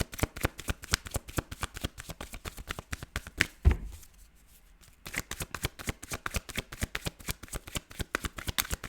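Tarot cards are shuffled close up in rapid, even riffling bursts of crisp clicks, broken by a soft thump and a short pause before the shuffling resumes.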